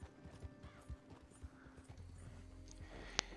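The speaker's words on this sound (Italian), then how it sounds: "Adesso lasciamo che il cavallo vadi da solo" A horse in the video game Red Dead Online walks along on its own, its hooves clip-clopping in a steady, faint rhythm, with a sharp metallic click near the end.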